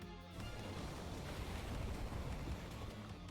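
Mega Wind spell from the Final Fantasy III game: a steady, rushing roar of whooshing wind, broad and loud throughout, alone with no voices.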